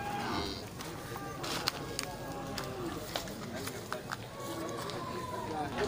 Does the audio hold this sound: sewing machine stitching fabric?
no